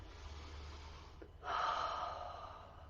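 A person demonstrates a deep calming breath: a quiet pause, then a sharp nasal intake that swells into a long, fairly close airy exhale trailing off, with no words spoken.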